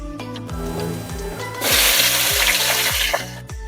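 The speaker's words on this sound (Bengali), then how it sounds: "ইঁচড়গুলো ভাজা হয়ে গেছে" Young green jackfruit frying in a pan: a soft sizzle under a stepping background tune, swelling into a louder, bright hiss about halfway through that continues until the end.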